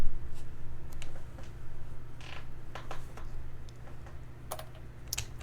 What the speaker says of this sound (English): typing dynamite body into Google and seeing what comes up.